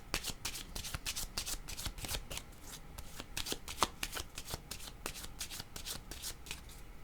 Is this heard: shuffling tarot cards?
yes